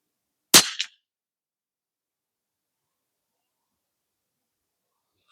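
A single sharp rifle shot from a CZ457 firing Aguila ammunition, loud and close, with a short tail that dies into silence for the rest of the clip.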